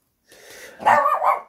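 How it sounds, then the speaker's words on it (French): A pet dog barks indoors, one softer muffled bark followed by two louder, sharper barks in quick succession, close to the microphone and alone without talk. "J'espère que cette fois-ci mon chien ne va pas aboyer"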